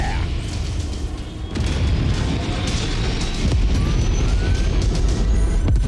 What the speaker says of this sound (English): That's why you hear all those explosions.